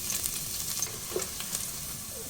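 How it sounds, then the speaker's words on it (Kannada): Chopped garlic frying in hot oil, giving a steady, close crackling sizzle with occasional sharper pops, continuous throughout with no talking. "ಎಣ್ಣೆ ಬಿಸಿಯಾಗಿದೆ. ಇನ್ನು ನಾನು ಇದಕ್ಕೆ ಕಟ್ ಮಾಡಿ ಇಟ್ಟಂತಹ ಗಾರ್ಲಿಕನ್ನು ಹಾಕ್ತಾ ಇದ್ದೇನೆ."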